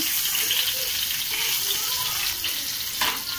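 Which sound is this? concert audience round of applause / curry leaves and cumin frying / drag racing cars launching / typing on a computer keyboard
curry leaves and cumin frying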